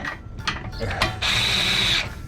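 A socket wrench with a 13mm socket ratchets bolts while a running board is fitted to a Silverado ZR2 pickup, giving close, loud clicking bursts and then a longer steady ratcheting run.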